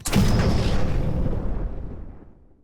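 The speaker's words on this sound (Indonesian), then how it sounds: "Gue menggunakan ini, nama keywordnya sci-fi explosion." A deep, booming sci-fi plasma explosion sound effect with a bright crackling burst at the onset, rumbling on and slowly fading over a couple of seconds.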